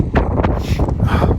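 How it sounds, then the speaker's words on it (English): Steady outdoor wind buffets a microphone on an RV property, giving a loud, low, rumbling roar with brief gusty swells throughout. "Boys, windy out here"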